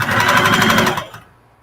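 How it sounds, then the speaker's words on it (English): A home sewing machine with worn feed dogs runs in a fast, rhythmic mechanical chatter, loud and close, then stops abruptly with a short fading whir while fabric bunches under the needle. "I think I'm gonna have to change the feed dogs on my sewing machine"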